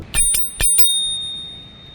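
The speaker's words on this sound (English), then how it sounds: "when I didn't want to brake, I always had the nice little bell" Four quick bright rings of a small handlebar bell on a Bodywel T16 mini e-bike, two pairs of dings with a sustained ringing tone trailing off, loud and close with no talk.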